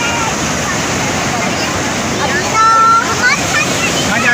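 Strong ocean waves surge and wash at Turtle Beach in Karachi, a steady loud roar of surf and water that swells briefly toward the end, with faint voices in the background.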